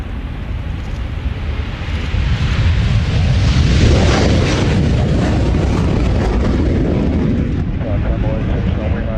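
A jet aircraft roars loud and steady as it departs at the Royal International Air Tattoo, a broad rumble building and holding throughout.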